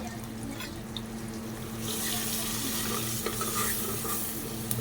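Mutton sautéing in a pan with red chili powder and turmeric, heard as a close, continuous sizzle with stirring scrapes. The sizzle grows louder and more hissing about two seconds in. No voices.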